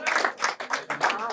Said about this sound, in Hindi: एक बार फिर स्वागत कीजिए मकर भाई का जोरदार तालियों से।